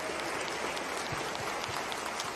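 Church congregation applauding a former pastor, a faint, fairly distant patter of many hands clapping steadily, with no one speaking over it.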